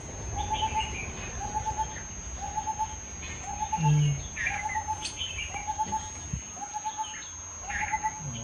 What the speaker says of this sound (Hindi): जंगल में चिड़िया आसपास बोल रही हैं